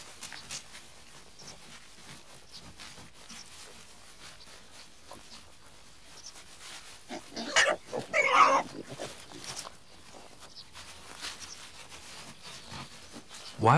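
Wild boar grunting and rooting while foraging outdoors, with soft snuffling and rustling that swells into a louder burst of grunts partway through, then eases back, with another sharp grunt at the very end.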